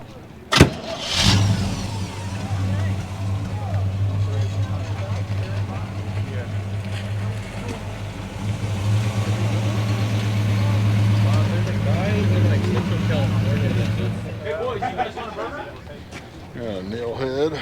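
Buick nailhead engine in a roadster at a car show, idling with a loud steady low rumble after a sharp start, running continuously for most of the stretch, with people talking nearby.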